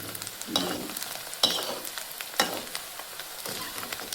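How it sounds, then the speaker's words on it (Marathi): Onion fries quietly in a pan for a Maharashtrian rajma curry, with soft sizzling and a few sharp scrapes of stirring spaced about a second apart. "कांदा चांगलाच फ्राय झालेला आहे"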